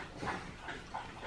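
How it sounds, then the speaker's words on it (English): A dog laps water from a bowl nearby in a home, making soft, repeated lapping sounds at a quiet level. "Dog's having a drink as usual"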